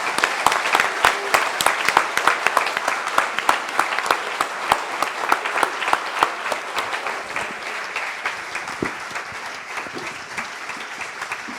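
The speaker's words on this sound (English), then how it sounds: "can we give John Campbell a huge round of applause and thanks for coming to Featherston." An audience applauds in a hall in Featherston with dense, loud, continuous clapping that holds steady throughout and eases only slightly toward the end.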